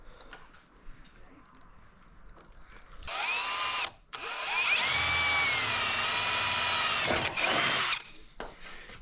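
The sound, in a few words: drilling a small hole in thin aluminium alloy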